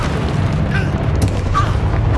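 Confringo blasting spell in Hogwarts Legacy, a loud booming burst with rumbling low-end and a couple of sharp cracks layered over continuous game noise, no speech.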